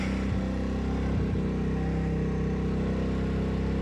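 A Peugeot Kisbee scooter engine fitted with an aftermarket exhaust idles as it warms up, giving a steady, close, throbbing putter with a couple of small blips.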